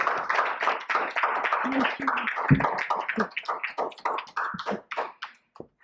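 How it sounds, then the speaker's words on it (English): Scattered audience applause after a talk on ecological ethics, with individual claps heard distinctly at close range, fading and thinning toward the end. "Please give her a big round of applause, please."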